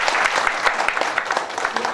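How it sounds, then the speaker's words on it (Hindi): Audience members at a product training session clap for Harish sir, a lively burst of applause with distinct individual claps standing out from the dense crowd clapping, sustained and fairly close. "हरीश सर के लिए एक बार जबरदस्त ताली होनी चाहिए"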